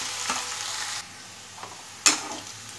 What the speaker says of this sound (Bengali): এইবার গ্যাস বাড়িয়ে আমি জিনিসটাকে ভালো করে ফ্রাই করে নেব।